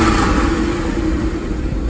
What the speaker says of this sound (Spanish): Cuando aceleras, más cuando vas sin techo, escuchas perfectamente cómo respira